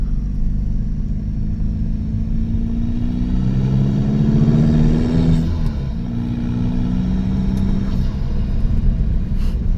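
A 2013 Volkswagen Jetta TDI diesel with a six-speed manual and deleted emissions equipment runs steadily close by. Its deep, even rumble holds throughout, with a slight rise and fall in the engine note near the middle.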